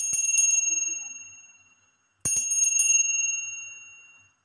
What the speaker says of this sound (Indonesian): akan memulai dengan hasil ramalan ditandai dengan lonceng berbunyi